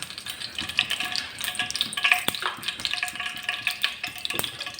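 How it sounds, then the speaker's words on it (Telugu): Oil goes into a hot pan on a stove for a sardine fish curry, giving a continuous bright sizzle with small crackles and a few louder pops, steady and close with no talking. "ఆయిల్ వేసుకుంటున్నాను."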